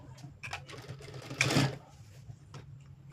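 A sewing machine topstitches the neckline of a blouse, running in a steady, close whir with a louder burst of stitching midway before settling back to a softer hum.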